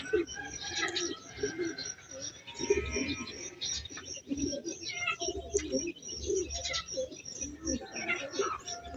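Soft low cooing of racing pigeons at an open loft, repeated in short murmuring phrases amid light chirps and ambient rustle, fairly quiet and close.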